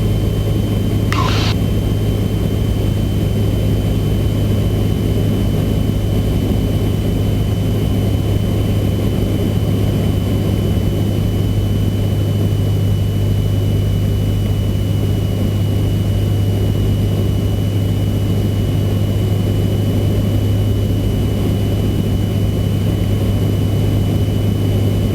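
Cessna 172 engine droning steadily inside the cockpit during a circuit at Moorabbin, a constant low hum with a tonal whine, close and unbroken throughout.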